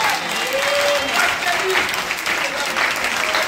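A church congregation applauds and cheers steadily, a dense wash of clapping that holds at an even level throughout, with voices faintly mixed into the crowd noise.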